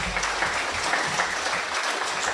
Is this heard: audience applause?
yes